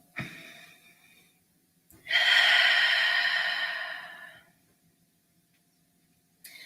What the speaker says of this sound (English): Let's just take a deep breath in. Another deep breath in.